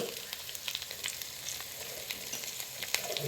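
Pathrode, layered and rolled, shallow-fries in a pan with a steady close sizzle and scattered sharp crackles, fairly quiet and without talk.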